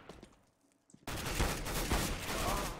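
Submachine gun fire in Counter-Strike: Global Offensive breaks out suddenly after quiet scattered clicks, turning into a loud, dense, continuous automatic burst.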